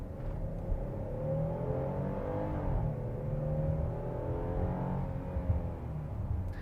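A 2023 Hyundai Palisade's engine revs up accelerating uphill in sport mode, its pitch climbing and dropping through gear changes, heard steadily from inside the vehicle.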